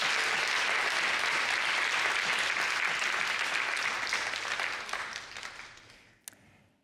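Conference audience applauding the organization team, a dense wash of clapping that holds steady, then tapers and fades out over the last couple of seconds.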